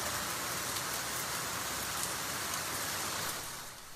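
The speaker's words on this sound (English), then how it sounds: "another day that brought rain across Metro Atlanta" Steady rain falls across Metro Atlanta, a dense, even hiss of drops on surfaces that holds at constant loudness throughout and eases slightly at the very end, with no voices.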